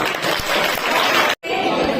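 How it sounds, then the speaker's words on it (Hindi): Dense, loud audience applause at a Class 10 farewell gathering, a steady wash of many hands clapping that breaks off for a split second before resuming. "तालियां तो बताओ।"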